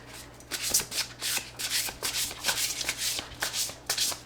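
A deck of oracle cards being shuffled by hand, with a quick run of crisp riffling bursts, close and fairly soft, with no voices.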